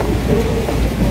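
Steady rain pouring down, a dense continuous hiss and patter with a low rumble underneath, loud and close.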